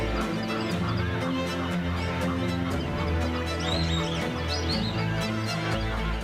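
A mixed colony of scarlet ibises with cormorants and herons in northern Brazil calls continuously, a dense, loud chorus of honking and squawking birds with no voices.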